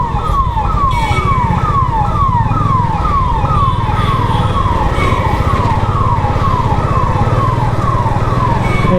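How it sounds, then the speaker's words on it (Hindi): A wailing ambulance siren sweeps up and down in a steady repeating cycle, loud and close, over a constant rumble of traffic and engines. "पीछे एम्बुलेंस आ रही है।"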